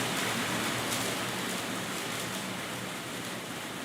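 Hail pelting a window and windscreen outside, a loud continuous hiss of dense impacts with faint individual taps, steady throughout without speech.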